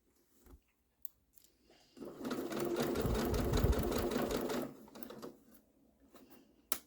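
A sewing machine stitches a gift card holder, running steadily for about three seconds with a brief back tack, framed by a few soft handling clicks and taps before and after.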